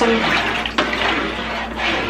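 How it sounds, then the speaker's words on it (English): Water pours steadily into a pot while canning pork broth, a close, continuous splashing rush that holds at an even level with a brief knock partway through. "I just poured some water in here."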